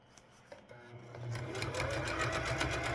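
Sewing machine straight-stitching a roughly 3/8-inch hem around a corner on a baby changing pad, a fast steady mechanical whirr that starts softly and builds to a constant rapid rattle.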